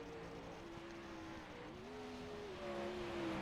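Sprint car engine droning steadily around the Kokomo track in a racing video game, a lone car with a sustained tonal whine that shifts pitch mid-clip and swells slightly louder near the end.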